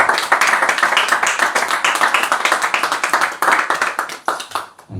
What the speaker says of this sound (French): Laissez-nous applaudir le Seigneur pour cela.